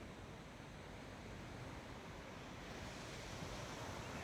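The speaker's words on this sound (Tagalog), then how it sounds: "Napakaganda ng dagat dito." Steady rushing surf from sea waves on the shore, a continuous broad wash of noise with slight wind, no voices.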